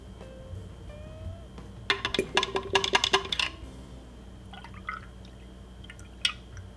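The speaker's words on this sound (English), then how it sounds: "Got a little dropper that I use here. Just need really 2, maybe 3 drops" A few drops from a small dropper bottle falling into film rinse solution, a quick cluster of crisp close drips in the middle, with a couple of fainter drips after in a quiet room.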